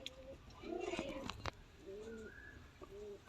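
Soft, low pigeon coos repeat several times in short rolling phrases, close and fairly quiet, with a faint sharp knock midway.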